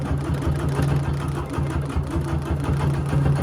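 A sewing machine runs steadily during free motion quilting on a Dresden quilt, its rapid needle stitching a close, even mechanical chatter with a low motor hum and no voices.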